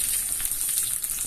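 Mustard seeds and red chilli spluttering in hot coconut oil for a cucumber pachadi, a brief burst of close, steady hissing sizzle with light pops and no voices.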